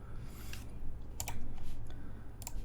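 Typing on a prototype ergonomic mechanical split keyboard: a run of close, crisp key clacks in irregular bursts over a low background hum.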